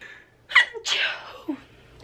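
A single sharp sneeze, close and loud, preceded by a quick inhale and trailing off into a short breathy exhale.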